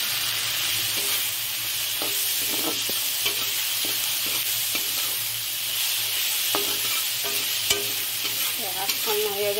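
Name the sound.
greens with fish cooking, sizzling in pan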